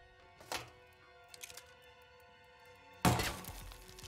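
A thrown gun landing in Hitman 2: a couple of faint thuds and clatters early on, then a louder sharp impact with a rattling, shattering tail near the end over a quiet humming game backdrop.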